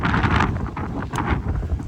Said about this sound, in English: the wind is trying everything in it to stop me